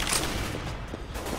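CS:GO gunfire on the Mirage map crackles in a short, busy, fairly quiet burst of shots mixed with game ambience, with no voices.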